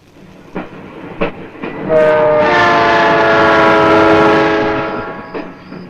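A train rumbles past with a rhythmic clatter of wheels, its loud horn blowing steadily for several seconds before fading, with a few sharp clanks at the start.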